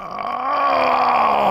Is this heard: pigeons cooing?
no